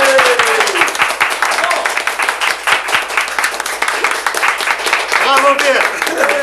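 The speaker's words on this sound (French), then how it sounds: "tout le monde vous applaudit ce soir comme nouveau chevalier du piment d'Espelette" An evening audience claps for a newly inducted chevalier of the Espelette pepper, a close, dense burst of hand claps mixed with overlapping voices.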